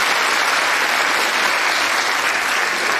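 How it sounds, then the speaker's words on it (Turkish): Dense, steady applause fills a kindergarten year-end show as the audience claps continuously at an even level throughout. "beğenenler alkışlayabilirler birbirine"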